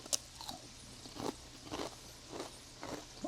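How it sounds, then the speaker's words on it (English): Crispy bacon being chewed up close, a handful of separate crunchy bites and chews spaced irregularly, quiet and without talk. "If you don't like to hear people chewing, you might want to mute this."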